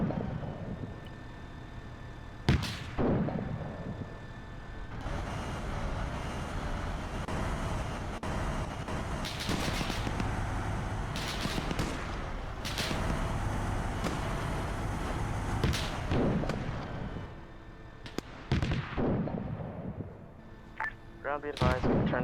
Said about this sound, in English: Danger close mortars, be aware.